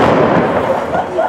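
A loud explosion during a customs sniffer-dog demonstration, heard as a dense close-up burst and rumble that fills the whole moment.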